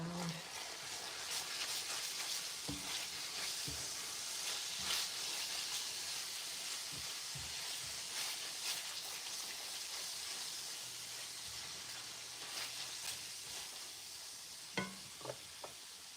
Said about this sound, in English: Okay, so stir this around